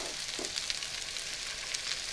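Chopped zucchini and mushrooms seasoned with salt and pepper sautéing in a pan over medium-high heat, giving a steady, fairly quiet sizzle and crackle that runs without break from start to end.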